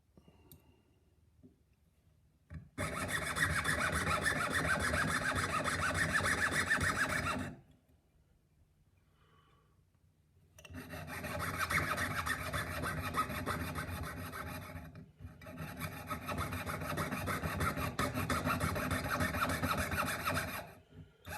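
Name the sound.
carving a tiny gold robin by hand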